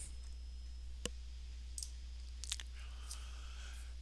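A single sharp computer mouse click at about one second, picking a delivery date on an online order form at a desktop computer; a few faint clicks follow over steady low hum, with no voices.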